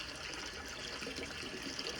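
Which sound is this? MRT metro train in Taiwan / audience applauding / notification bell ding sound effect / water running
water running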